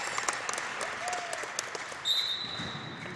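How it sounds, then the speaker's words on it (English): Spectators at a wheelchair rugby championship game applaud and cheer, a steady patter of clapping with a brief whistle-like tone, moderately distant in a gym-like hall. "And the crowd is cheering."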